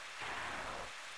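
Rain in the Pokemon Rosso Fuoco video game, a soft, steady hiss of falling rain at low volume with a slight swell in the middle and no talking.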